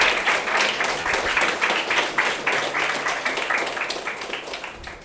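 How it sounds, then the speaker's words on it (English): Applause for a prize winner at a medical training event on IV access, a steady crowd of hands clapping at moderate level with distinct individual claps, slowly thinning out. "Give her a good round of applause, people."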